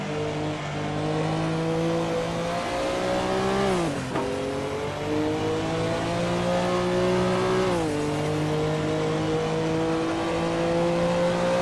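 A race car in the Assetto Corsa video game screams around a circuit, its engine note climbing steadily through each gear, dropping sharply at shifts, then rising again, loud and close with no talk.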